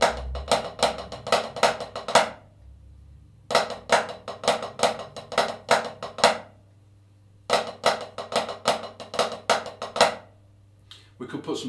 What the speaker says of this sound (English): So we could play the same accent with flams.